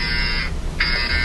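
A loud electronic buzzer alarm on a sailing boat racing in the Bermudes 1000, a steady tone that cuts out briefly then resumes, close and continuous with no talking.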